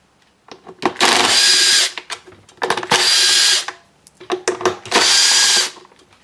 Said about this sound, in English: Now there's 3 more screws to remove, one here, one there, and the last one here.